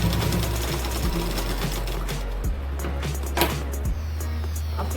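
A sewing machine stitches blouse fabric in a steady, close whirring run. The motor pauses briefly partway through, then starts up again.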